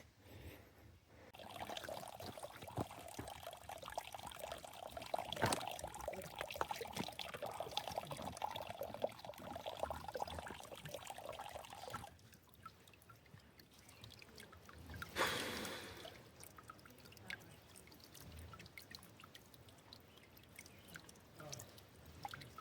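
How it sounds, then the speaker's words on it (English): A shallow mountain stream trickles as water bottles are refilled during backpacking in the White Mountains, a faint steady gurgle and dribble, close by, shifting in tone partway through. "this is my water source for the night. It's gonna take a while to refill my water bottles."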